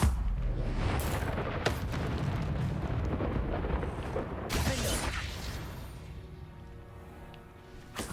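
Confringo blasting spell bursting in Hogwarts Legacy, a loud rumbling blast with sharp bursts near one and five seconds, then a decaying roar fading toward the end.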